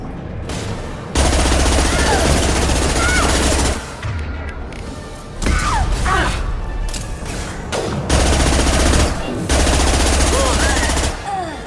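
Sustained bursts of loud automatic gunfire and blasts in the Mass Effect 2 Legendary Edition combat, rattling in long stretches with brief lulls and some shouted voices mixed in.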